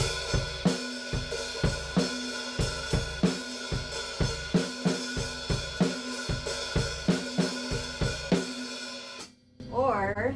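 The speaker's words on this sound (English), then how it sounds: "With an open hi-hat, which sounds like this." A drum set plays a steady groove with an open hi-hat ringing in a bright, sustained wash over regular kick and snare hits. A voice speaks briefly after the beat stops.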